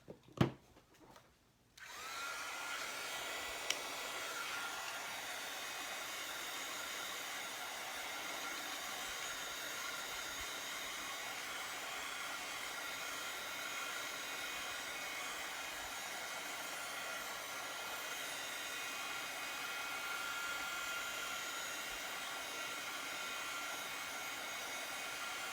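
Steady, loud whoosh of a heat dryer blowing continuously over freshly applied craft paint on a wreath project, starting abruptly after a brief clatter and running unbroken to the end.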